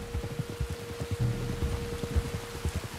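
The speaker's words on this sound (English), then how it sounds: "You were right about the damn rain." Rain in the video game Red Dead Redemption 2, a steady soft patter of drops falling on surfaces, moderately quiet and continuous with no voices.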